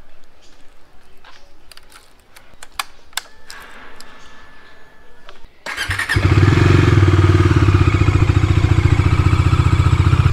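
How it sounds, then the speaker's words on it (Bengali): A motorbike fires up on a cold morning and settles into a loud, steady idle after several seconds of quiet ticking and faint background sounds, the engine's even rapid thrum continuing to the end. "বাইক একটুখানি কোল্ড স্টার্টে বসিয়ে রাখলাম"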